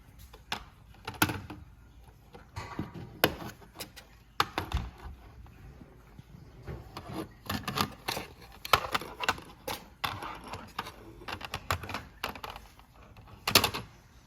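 A screwdriver prods and pries at the latches of an old alarm panel cover, giving sharp plastic clicks, pops and knocks in irregular clusters, close and fairly quiet, with no speech.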